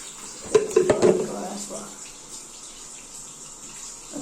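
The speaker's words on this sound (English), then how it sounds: "Dump all the water." Water from a toy unboxing is dumped out in a short splashing pour, a brief cluster of sloshes that trails into quiet with a faint steady hiss.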